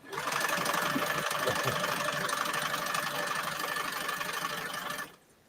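Old sewing machine running steadily at close range, its motor whirring under a rapid mechanical clacking that persists despite fresh oil, then stopping abruptly near the end.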